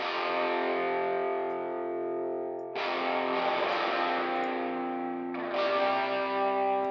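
Overdriven electric guitar with heavy room reverb set long at about three seconds, three sustained chords struck at intervals, each ringing out and decaying into a wash of reverb, loud and alone with no talking.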